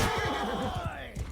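A horse neighs loudly in Mount & Blade II: Bannerlord, a long, shaky whinny over busy battle noise with low thumping hoofbeats beneath.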